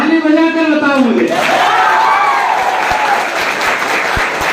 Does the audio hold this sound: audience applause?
yes